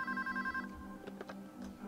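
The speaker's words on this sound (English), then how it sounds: "Someone answer that phone." A telephone rings in the Payday 2 bank heist game, a brief electronic trill up front that stops and gives way to faint thuds and movement.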